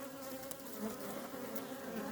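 Steady insect buzzing from many bees at a hive entrance, a dense continuous drone with no voices, close by and fairly even in loudness.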